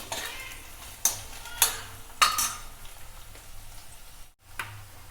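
Garlic and dry red chillies frying in a pan for a Rajasthani chutney, a soft continuous sizzle broken by a few sharp spoon clinks and stirring scrapes, close, with a brief drop near the end.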